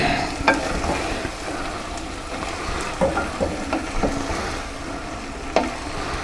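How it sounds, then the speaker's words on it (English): Clam chowder being stirred in a pot as it comes back up to heat, with a steady simmering sizzle under scraping spoon strokes and occasional louder clanks against the pot; no one talks. "So while this comes back up to heat, we'll stir it around a little bit."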